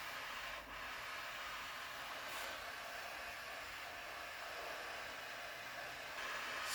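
A MAP gas torch heats a metal part with a steady, faint hissing roar that stays even from start to finish.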